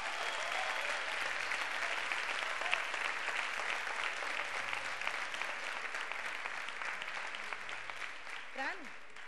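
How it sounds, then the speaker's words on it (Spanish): An audience at a university business school graduation ceremony applauds steadily, a dense wash of clapping with brief bits of voices near the end. "les recibimos con un fuerte aplauso"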